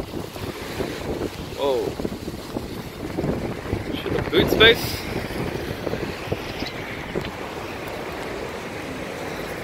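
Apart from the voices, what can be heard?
strong wind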